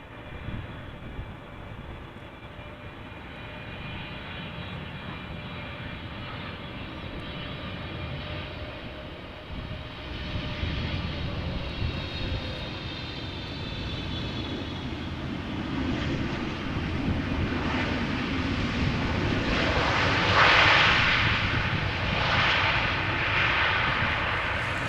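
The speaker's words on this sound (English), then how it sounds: "Also not the loudest landing we've ever seen." An airliner landing at Amsterdam Schiphol Airport, its broad engine roar steady and moderately loud, swelling slightly toward the end with a brief brighter hiss near the touchdown as it passes nearby.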